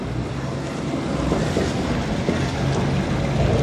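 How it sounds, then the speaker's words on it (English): An RNLI lifeboat with twin bilge keels grinding its hull along a cobbled bottom at Anstruther, a steady rough rumbling scrape with low engine drone and wind buffeting throughout. "See it just scraping along the bottom."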